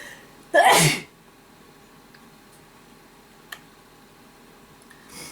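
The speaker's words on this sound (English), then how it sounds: "One moment, I'm gonna sneeze." A single loud sneeze bursts out near the start, then near silence follows with a faint tick or two.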